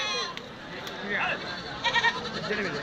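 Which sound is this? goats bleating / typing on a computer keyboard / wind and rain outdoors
goats bleating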